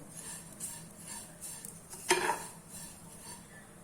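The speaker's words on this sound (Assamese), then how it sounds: "ভালকৈ ৰঙাকৈ ভাজি ল'ব লাগিব এইটো।" Vermicelli frying for sewai rabri gets stirred in a pan, with faint sizzling, light scraping and one sharp clink of a utensil against the metal about halfway through.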